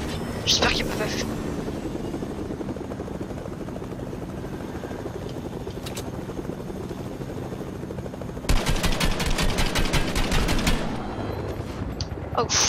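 Steady helicopter rotor thrum in Fortnite Battle Royale runs throughout, with a burst of rapid gunfire near the end and a voice speaking over it.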